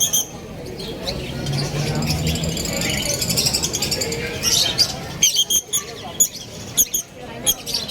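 Small caged birds chirp and tweet at a pet market in Bulacan, a busy mix of high twittering calls over crowd murmur, with people talking nearby throughout.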